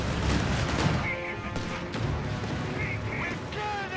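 Anti-tank gun fire in the World War II strategy game Company of Heroes 3 at Gazala, heavy booming shots and crashes mixed with battle noise and shouted in-game voices.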